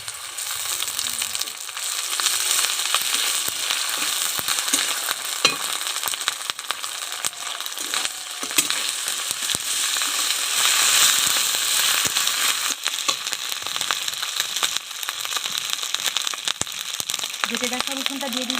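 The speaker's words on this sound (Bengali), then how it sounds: "পেঁয়াজটা আমি ভালো করে লাল করে ভেজে নেব" Onion and ginger paste frying in a pan for a jackfruit and prawn curry, a steady broad sizzle that runs throughout at moderate level with occasional utensil clicks.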